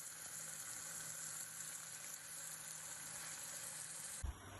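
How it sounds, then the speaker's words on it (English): Meat pieces sear in a hot cast iron pan with a steady, faint sizzle that runs unbroken until a short clatter near the end. "In a large pan or in a cast iron pan like here, place the pieces one by one flatly to the hot surface."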